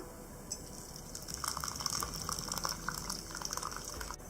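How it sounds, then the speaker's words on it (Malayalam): Boiled water poured over washed ready-made rice ada in a bowl for paalada payasam, a steady near gush of liquid lasting a few seconds before easing off. "ഇനി ഇതിലേക്ക് തിളപ്പിച്ച വെള്ളം ഒഴിച്ചു വെക്കാം."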